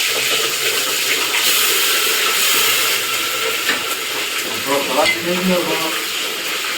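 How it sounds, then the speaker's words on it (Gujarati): Green chillies sizzling in hot oil in a pan for tempering, a steady loud frying hiss with some stirring, continuous throughout and no talk. "પેલા આપણે છે ને જરાક મરચા તરી નાખીએ"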